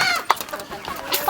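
Native chickens cluck close by in short, choppy bursts at a farm, with faint background noise and no talking.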